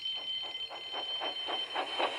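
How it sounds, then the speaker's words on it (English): An alarm rings in a Thomas the Tank Engine story, a steady high electronic tone with rapid rhythmic pulsing repeating about every quarter second, moderately loud and continuous with no voices. "Soon came the alarm."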